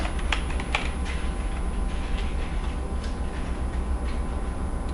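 Keys tapped on a computer keyboard, including the tab key, a few sharp close clicks clustered near the start and scattered single presses later, over a steady low background hum.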